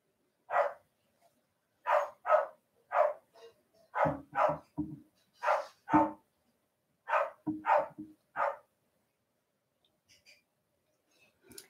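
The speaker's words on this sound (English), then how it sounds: "Sorry about the barking." A dog barks repeatedly nearby in short bursts, some in quick doubles, with no talking, then falls quiet near the end.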